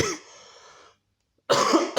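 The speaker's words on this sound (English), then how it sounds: "Sorry, still got this cough." A single harsh cough, followed by a short pause and then a second rough cough.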